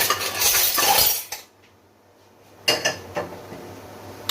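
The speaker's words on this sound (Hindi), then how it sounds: "ये बॉइल्ड आलू है, इनको काट लेती हूँ।" A knife cuts boiled potatoes in a home kitchen, giving a loud close burst of clattering, knocking sounds, then a quiet pause before another sharper round of knocks and clinks.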